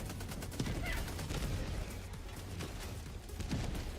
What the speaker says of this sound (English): I am the machine gun turret now.